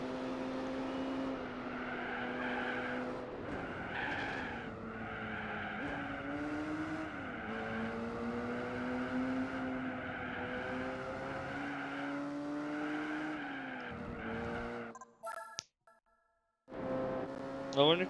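A race car in Gran Turismo 4 roars along with a steady engine drone, the pitch rising and dipping through gear changes, with squealing tires through turns before a sudden cut to near silence and a brief return.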